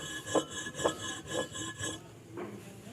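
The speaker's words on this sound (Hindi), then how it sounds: "ये नमक डाला जा रहा है इसमें और रगड़ाई हो रही है" Salt is rubbed back and forth inside a vessel to clean quicksilver, making a gritty rasping scrape in about five regular strokes. The rubbing is close and steady, with no talk.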